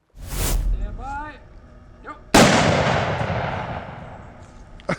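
Gunshots fired at a Level 3A ballistic helmet: a sharp report early, then a second loud, close blast that rings off and decays over several seconds, with a person talking briefly between the shots.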